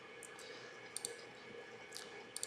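A computer mouse gives soft, quick clicks, some single and some in close pairs, spread across a quiet room tone with no voices.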